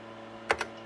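Two quick clicks of keys on a worn TRS-80 Model 16 computer keyboard with some faulty keys, close and sharp, against a low steady hum.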